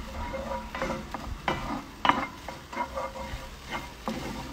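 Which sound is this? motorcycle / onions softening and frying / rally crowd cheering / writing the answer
onions softening and frying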